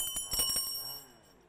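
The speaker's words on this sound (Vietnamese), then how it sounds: "Vừa rồi thì đội Mùa Xuân đã rung chuông nhanh hơn ạ." A quiz team's answer bell at a television contest, one bright metallic ring struck in a quick cluster of hits, then ringing on and fading away without talk.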